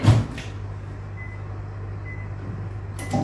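A microwave oven heating chocolate ganache hums low and steadily, with a door clunk at the start and another at the end.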